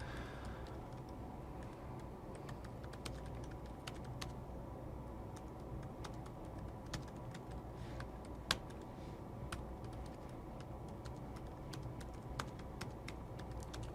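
Clicky keystrokes on a computer keyboard during a programming lecture, typed in an irregular, moderately paced stream of light taps over a steady low room hum, with one sharper, louder key strike midway.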